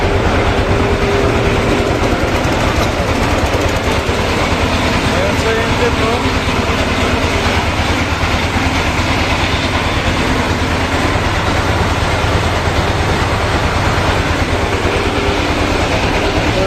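A single-engine passenger river launch runs with its engine giving off a steady, loud, broadband drone that never lets up, while voices carry on beneath it on the crowded deck.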